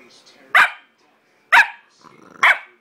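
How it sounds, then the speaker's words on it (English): A dog barks three times, sharp and close, with short quiet pauses between each bark. "No barking."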